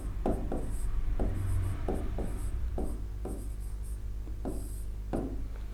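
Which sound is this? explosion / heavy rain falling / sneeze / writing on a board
writing on a board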